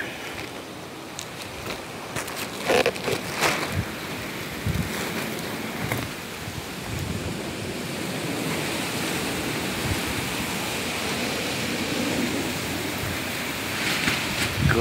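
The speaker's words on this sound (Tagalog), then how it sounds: "Grabe, ang lakas ng hangin." Strong typhoon winds roar steadily outdoors during Typhoon Egay, a loud, broad rushing noise with gusty surges and a few sharp knocks or rattles, no voices heard.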